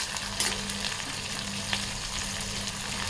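Onion and ginger-garlic paste fry in a pan for paneer bhurji, giving a steady, dense sizzle with light stirring scrapes throughout.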